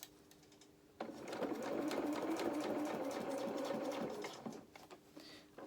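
A sewing machine runs steadily for about three seconds as it stitches a seam through a small fabric coat for a Luna Lapin toy, starting abruptly and stopping, close and moderately loud with no speech.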